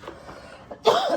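A single short cough from a person with a lingering cough, close and fairly loud, after a second of quiet room sound.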